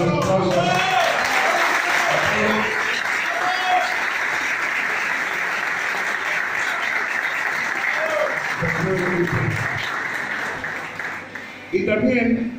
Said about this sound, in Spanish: Le tiramos los aplausos.